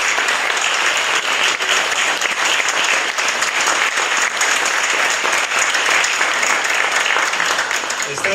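An audience in Capriva gives a warm ovation for Mario Grion at a music event, a loud, dense wash of clapping from many people that holds steady from start to finish.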